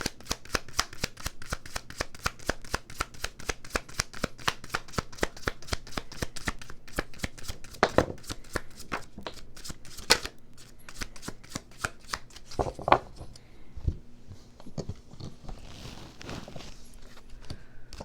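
Tarot cards shuffled over and over in a fast, steady riffling rhythm, close and fairly loud, with a few sharper slaps as cards scatter partway through and no talking.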